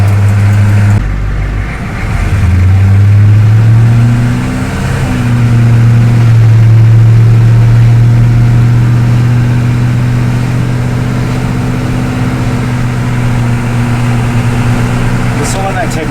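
A GM 6.2 diesel truck exhaust drones with a deep, rumbling tone as the engine revs up and holds steady, close and loud, with a voice talking at moments.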